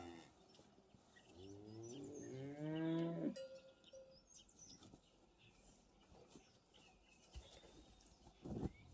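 Cattle out in the mountain sierra give one long, loud moo, with fainter lowing and a brief call afterward, heard in a quiet outdoor setting with light rustling in the background.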